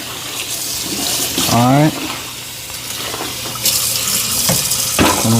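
Water runs from a tap to rinse out a mop bucket, a steady gushing splash heard close by, while a person speaks briefly and a dog whines and yelps at moments.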